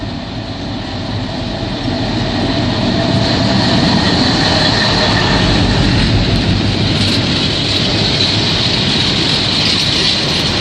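A Class 68 locomotive hauls a freight train past at Severn Tunnel Junction, a loud, steady rumble and rolling wheel noise that holds close and unbroken throughout without speech.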